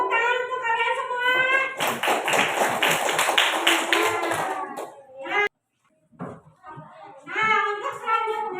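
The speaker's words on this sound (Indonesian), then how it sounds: "Kasih tepuk tangan untuk kalian semua." Schoolchildren clapping in a classroom, a burst of quick, busy hand claps in the middle, with children's voices before and after and a brief silent gap.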